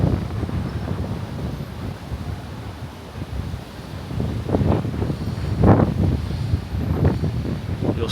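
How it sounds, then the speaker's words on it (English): Steady, blustery wind on a rooftop in Tudor City, Manhattan, roars into the microphone with rising gusts and a constant low rumble, loud and close, with no voices. "It's a little windy up here though."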